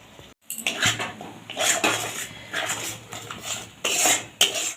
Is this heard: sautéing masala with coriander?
yes